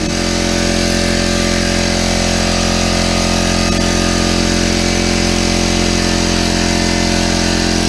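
A Harbor Freight air compressor runs steadily as it builds tank pressure, its motor and pump making a loud, continuous droning hum close by that holds for the whole stretch with no talking.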